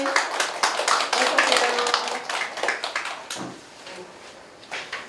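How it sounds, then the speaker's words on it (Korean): An audience of mothers at an admissions information session claps to welcome a company representative to the front, a lively burst of hand clapping that thins into scattered claps, with brief voices between. "박수로 환영해 주십시오"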